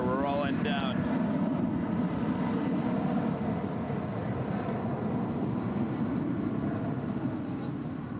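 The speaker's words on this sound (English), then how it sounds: "767-300ER, rolling down." A UPS Boeing 767-300ER jet rolling down the runway on takeoff, a broad, steady roar of engines building and holding throughout, with a voice talking briefly at the start.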